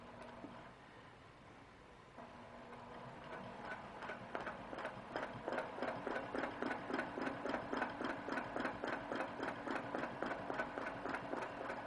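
A sewing machine stitching along a quilt seam line starts softly, then settles into a steady, rapid rhythmic clatter that builds and holds, moderately close and alone.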